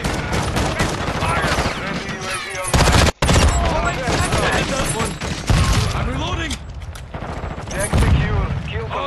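Sustained game gunfire from Call of Duty: Modern Warfare 2 multiplayer, dense rapid bursts of automatic fire and shots with a brief gap near the middle, loud and continuous throughout.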